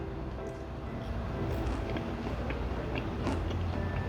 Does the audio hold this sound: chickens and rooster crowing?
no